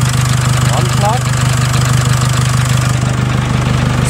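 A Nissan X-Trail engine idles in a steady, loud, continuous low hum with a constant rhythmic throb throughout, no revving or spikes, and no voices over it.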